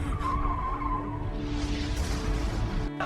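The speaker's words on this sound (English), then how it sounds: "It shows you the car crash." A car crash sound effect: tires skid and squeal steadily for a few seconds, closing with a brief, sharp burst of noise.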